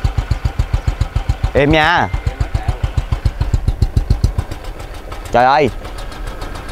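A Honda Wave 125 motorcycle engine idles close by with a steady, rapid low putter, while a voice briefly speaks twice over it.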